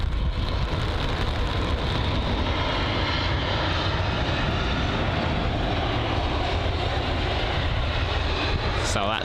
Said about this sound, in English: So that's the BA A319.